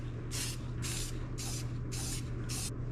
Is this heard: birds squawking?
no